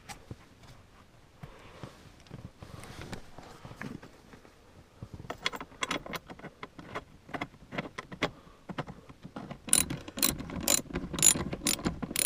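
Ratchet wrench clicking as a bolt is tightened down onto a seat bolt while an OEM subwoofer is fitted in a 2005-2009 Subaru Legacy, with quiet scattered clicks at first, then denser, louder ratcheting strokes near the end.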